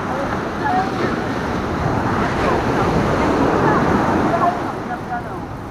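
Large ocean waves surge and break continuously at close range, a loud, steady wash of surf with wind buffeting the microphone throughout.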